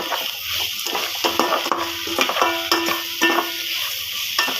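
Coriander and curry leaves frying in a pot for rasam while being stirred, a loud close sizzle broken by repeated clinks and scrapes of a spoon against the metal in an uneven rhythm, with no one speaking.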